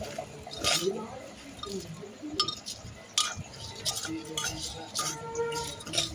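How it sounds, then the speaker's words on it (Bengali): A spoon stirs khichuri in a cooking pot just after turmeric goes in, giving repeated clinks and scraping against the metal with a soft wet churn, close by, while a voice talks over it. "দিয়ে দিলাম হলুদ, দিয়ে আবার ভালো করে নাড়লাম"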